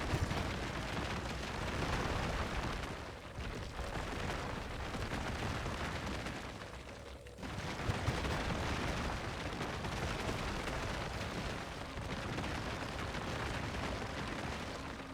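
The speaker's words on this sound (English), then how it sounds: "I don't like how it explodes so violently." Violent explosion blasts in a vehicle video game make a dense, continuous roaring rumble, loud and close, with a sharp burst near the middle and no voices.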